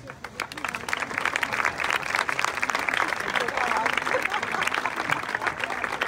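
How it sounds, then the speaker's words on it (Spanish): An audience applauds a folk dance group from València, many hands clapping in a lively, even patter that swells after a quiet start and stays full, with voices murmuring underneath. "vull demanar un fort aplaudiment per a ells."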